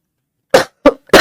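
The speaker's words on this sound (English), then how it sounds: "This coughing is driving me nuts." Three separate harsh coughs from one person, close and loud, spaced by short pauses after a moment of silence.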